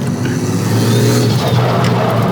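A twin-turbo Ford AU Falcon engine roars loudly and continuously at close range on a track, its pitch climbing slightly as it accelerates with a steady droning growl.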